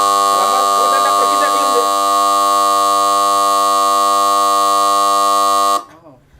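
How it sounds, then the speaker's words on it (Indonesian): A homemade motion-sensor security alarm sounds a loud, steady electronic buzzing tone for almost six seconds, with faint speech-like sounds in the first two seconds, then cuts off abruptly into near silence. "setiap ada orang yang sekiranya mau melintas di area itu, maka alatnya akan bunyi dan menyalakan lampu secara otomatis"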